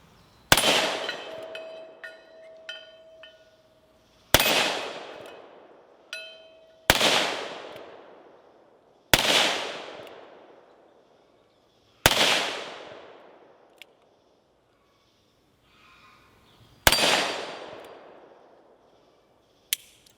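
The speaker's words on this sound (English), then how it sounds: "I've never shot a 30 carbine revolver before" Ruger Blackhawk revolver chambered in .30 carbine fired outdoors at a steel dueling tree, six or seven sharp loud shots spaced a few seconds apart, each with a ringing decay and a metallic clang from the targets.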